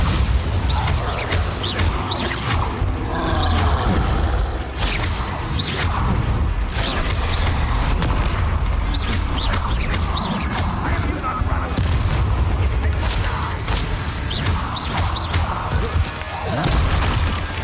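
Spell-combat sound effects from the Hogwarts Legacy video game, with loud booming blasts and crashing impacts from the Bombarda explosion spell layered over continuous dense battle noise, plus a voice shouting intermittently.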